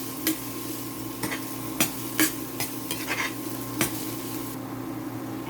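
Garlic frying in a pan as the base for garlic shrimp, a steady close sizzle broken by sharp scrapes and clinks of a utensil stirring against the pan at irregular intervals, with no talking.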